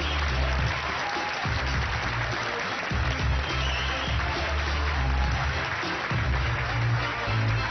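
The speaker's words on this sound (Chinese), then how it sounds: "掌声鼓励。" Studio audience applause welcomes a guest on a Taiwanese talk show, a continuous, full-bodied crowd of hands clapping at close range, loud and sustained for several seconds with low rumbling underneath and no speech over it.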